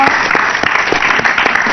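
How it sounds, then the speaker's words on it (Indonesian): A studio audience on an Indonesian television talk show claps for a guest, a short, full and loud burst of many hands that carries on evenly for under two seconds. "boleh tepuk tangan dulu dong buat Sinyo."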